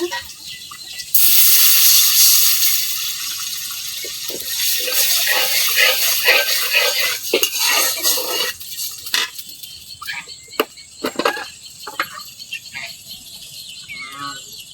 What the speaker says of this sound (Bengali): এখন আমি একটু পানি দিয়ে নিব